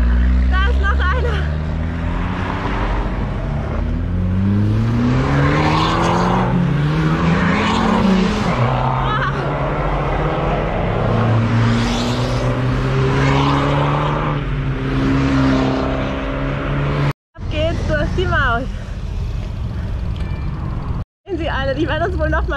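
Fiat 500 Abarth cars overtake on the Timmelsjoch mountain road near Sölden, their engines roaring steadily beneath continuous close talk from people.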